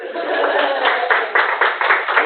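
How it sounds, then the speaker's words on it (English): Online audience clapping at the end of a talk on web content accessibility guidelines, a short patter of claps building over about two seconds, compressed and band-limited, with no voice. "Go ahead, clap."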